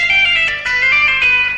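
Distorted electric guitar plays a rock scale pattern of quick hammer-ons and pull-offs, notes flowing legato and sustained with a steady, loud, saturated tone.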